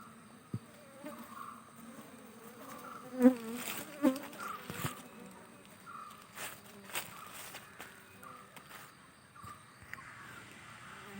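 Honey bees buzz steadily around a hive on a beekeeping farm, a continuous droning swarm close to the microphone, with occasional louder passes as individual bees fly near, and a few soft footsteps and thuds in the background.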